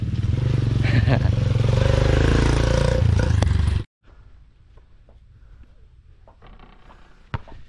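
A motorcycle engine runs loud and close, a steady low rumble during a hike near Lake Holon, then cuts off abruptly, leaving quiet background with faint knocks and a sharp click near the end.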